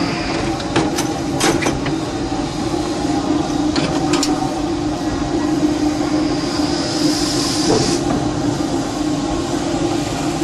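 A Disneyland Railroad steam locomotive starts to roll forward with a steady, loud mechanical rumble and hiss, brief metallic clanks early on, and a sharper burst of steam hiss near the end.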